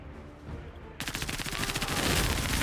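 Rapid automatic gunfire in the tactical game Menace breaks out after a quiet second, a close, loud rattling stream of shots that builds into a continuous dense barrage.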